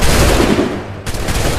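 Volley of musket gunfire in Assassin's Creed 3 Remastered, a loud, close burst of shots blending into a rolling crackle that fades, then a second sharp blast near the end, with no talk.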